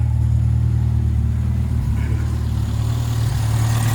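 Hillman car engine running in the engine bay after a carburettor adjustment, a steady loud mechanical drone whose speed rises slightly, heard close with no talk.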